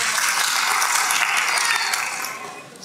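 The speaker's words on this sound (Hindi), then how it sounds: "मेरी अरदास होगी सारे भाइयों से कि उस्ताद मुकर्रम की शान में ताली हो जाए।" An audience at a Haryanvi kavi sammelan poetry recital claps in a dense, steady burst of applause that fades toward the end.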